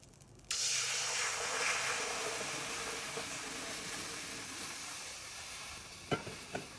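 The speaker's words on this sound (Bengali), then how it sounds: "শুটকিটাকে আমি এখন টেলে নেব।" Dry sizzling and hissing of loitta dried fish roasting in a hot pan, with occasional scraping and stirring clicks near the end, close and steady.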